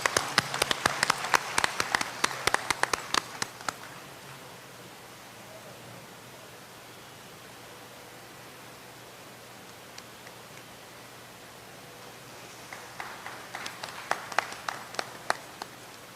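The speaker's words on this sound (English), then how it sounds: "Another round of applause for our violinist" Concert audience applauding a violinist at a Rangapravesam recital: a burst of clapping fades into a quiet room, then a second wave of applause rises near the end.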